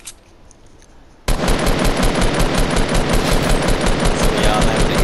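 Dense automatic gunfire in Fortnite lays down rapid cover fire, a loud continuous burst of shots that breaks in suddenly after a quiet moment and holds steady to the end.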